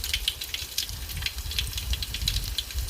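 Garlic and onions sizzling in hot oil in a pan while making Telangana-style sambar, a steady close hiss and crackle with a low rumble underneath and no talking.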